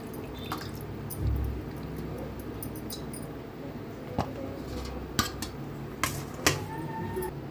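Bell peppers being washed by hand in water, with soft splashes, drips and squelches, a low rumble, and several sharp clinks of a vessel or utensil toward the end. No voices.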